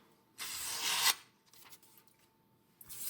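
A Victorinox paring knife edge drawn across a DMT coarse diamond plate makes one loud, steady rasping scrape lasting under a second, followed by fainter short scratchy strokes and another stroke starting at the end.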